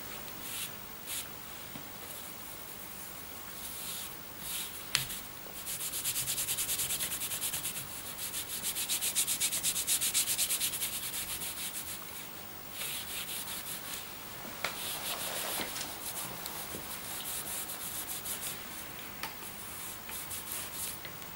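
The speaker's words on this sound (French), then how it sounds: "ça nettoie la surface du cuir des petites traces qui pourraient subsister en ne laissant la patine que dans les creux" Cloth rubbing and cleaning the surface of tooled, embossed leather after patina, a soft continuous scrubbing hiss in waves with occasional small taps, close and fairly quiet, no talking.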